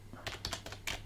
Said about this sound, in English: And now we type.